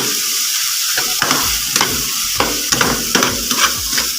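Stink beans and minced pork stir-fried in a hot pan, a steady sizzle with repeated scraping clacks of a spatula turning the mixture, close and alone.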